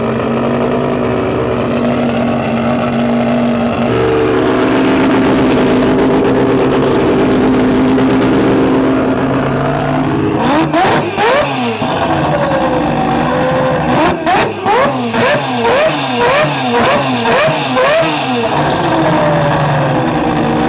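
A 1000hp turbocharged four-rotor Mazda RX-7 idles with a loud, rough, droning burble, then fires off a series of sharp, aggressive revs in quick succession, each one flaring up and dropping back close to the microphone.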